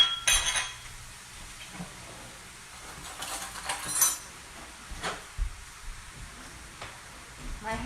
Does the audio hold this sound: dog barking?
no